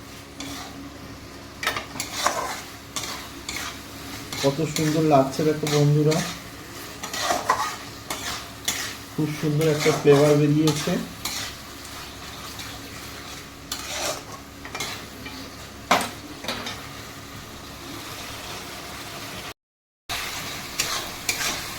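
Chili soybean masala with a little sugar is sautéed over high heat in a pan, giving a steady quiet sizzle with regular spoon scrapes and stirring strokes throughout, while someone speaks briefly over it twice.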